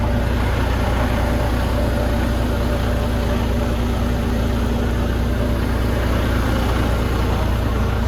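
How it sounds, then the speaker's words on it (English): A truck engine runs at a steady idle after being started during a daily pre-check, giving a constant low rumble with a faint mechanical hum, loud and close, unchanging throughout with no voices. "as now we have started the truck"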